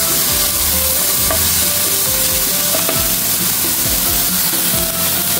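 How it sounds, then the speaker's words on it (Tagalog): Pork sizzles loudly in a hot pan for Filipino ginisang mais with corn, under a continuous crackling fry and the repeated scrape of a spatula stirring, close up and with no talk. "So, lutuin lang natin mabuti ang ating pork."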